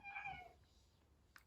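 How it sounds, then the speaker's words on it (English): A single short cat meow, faint and a little distant, followed by near silence and a small click. "And that was my cat meowing."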